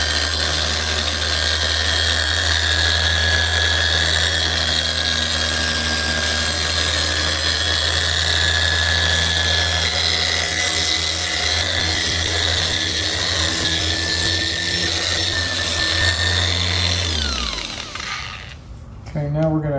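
Electric polisher running steadily during paint correction on a 2022 Indian Pursuit motorcycle, a loud continuous whine with layered motor hum that holds for about seventeen seconds before spinning down at the end.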